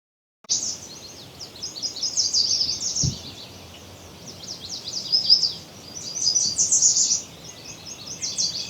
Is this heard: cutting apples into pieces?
no